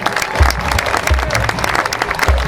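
Crowd applause for a high school marching band at an outdoor county preview, a continuous wash of clapping with low booming thumps recurring roughly every second underneath.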